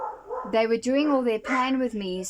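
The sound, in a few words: dogs barking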